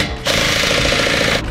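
A power tool buzzes in a single loud, close burst of about a second while loosening the front axle pinch bolt on a Harley-Davidson Road Glide, with a rapid rattling hammer.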